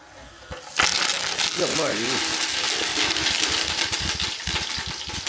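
Whole spices such as cardamom and cloves hit hot cold-pressed coconut oil in a pan, starting with a sudden loud sizzle and settling into a steady, crackling fry up close.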